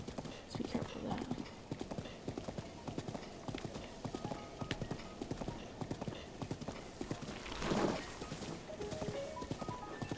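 Horse hooves clip-clop at a steady trot in The Legend of Zelda: Breath of the Wild, a brisk close rhythm with a brief whinny-like swell near the end and faint talk now and then.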